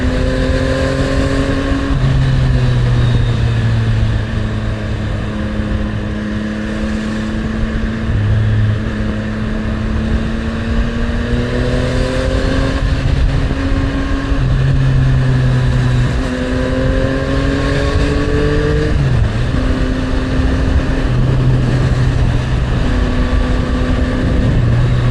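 Yamaha MT-09 motorcycle engine on a road commute, droning steadily and loudly as it climbs through the revs, with a series of quick clutchless upshifts each dropping the pitch, against constant wind roar, with no talk.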